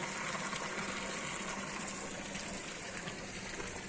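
Borewell pump running with water gushing steadily into a tank on a coconut grove farm, a dense continuous pouring rush heard close and loud throughout.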